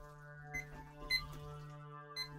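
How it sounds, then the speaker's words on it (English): A cheap electronic darkroom timer gives several short, faint beeps as its buttons are pressed, against a steady low hum in a quiet room. "So clear my timer here."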